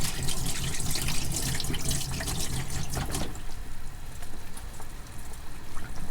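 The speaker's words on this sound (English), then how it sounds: "Wash my hands." Tap water running into a sink in a tiny van kitchen while hands are washed, a close steady splashing rush that thins after the first few seconds into softer trickling and dripping.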